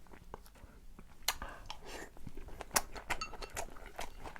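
Someone chews salty soy-sauce-marinated food topped with Cheongyang chili peppers, making close, soft, irregular mouth sounds and crunches with faint clinks, and no talking.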